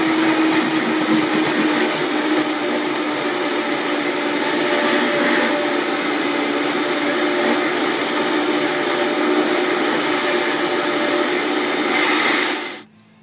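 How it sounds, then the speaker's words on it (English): A blender whirring through kale chip sauce ingredients with garlic, lemon and salt, a loud steady motor drone that runs evenly for about twelve seconds before cutting off abruptly. "basically blended all those ingredients up."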